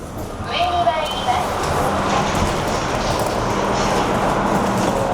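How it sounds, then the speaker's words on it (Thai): A train pulls out of a station in Tokyo, a steady rolling rumble with a squeal as it starts, while someone talks over the noise. "รถไฟทำไมหายไปแล้วรถไฟไปแล้ว"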